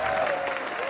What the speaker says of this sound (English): Let's give a big round of applause to Takuma Miyazono!